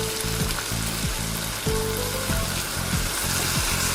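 A chicken dish with fish sauce sizzles steadily in a pan, with a constant frying hiss and occasional faint clinks of stirring, no voices.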